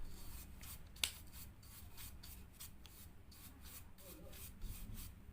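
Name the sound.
brush cleaning weld slag off welded workpiece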